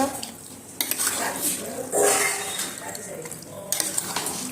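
Chicken curry with potatoes is stirred in a pot, with a spoon scraping and clinking against the metal over a soft sizzle, in irregular close-up strokes.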